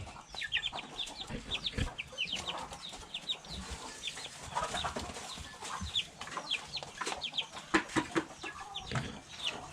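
Chickens in a small backyard flock, kept alongside ducks, cluck repeatedly in short, irregular calls, fairly close and overlapping, with no one talking.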